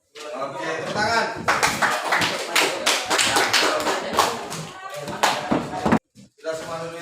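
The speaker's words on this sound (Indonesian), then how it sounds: "Oke, tepuk tangan." Schoolchildren clap their hands in a classroom, a dense burst of quick claps and taps that runs for several seconds and then breaks off abruptly. Voices can be heard mixed in with the clapping.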